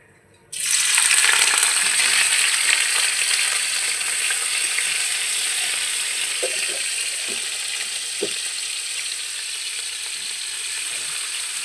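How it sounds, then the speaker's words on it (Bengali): Salted cubes of packaged paneer drop straight into a hot pan and burst into a loud, sudden sizzle that settles into a steady, close frying hiss, with a few faint clicks of utensils. "পনিরগুলোকে ডাইরেক্ট ভেজে নেব"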